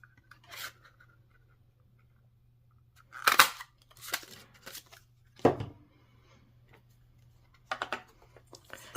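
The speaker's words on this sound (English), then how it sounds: "I'm also going to cut it out with a circle punch." A 1.5 inch circle punch cuts rounds from paper, giving several sharp, close clicks and crunches in separate bursts with quiet gaps between them.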